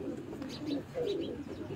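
Pigeons on a rooftop in Multan cooing softly, a few low throaty coos repeating nearby with faint chirps above.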